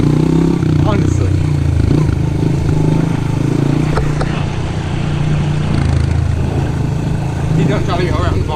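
A four-wheeler ATV on a farm near a barn drones steadily with a loud, rough engine rumble throughout, close to the microphone, with some clatter and no clear speech.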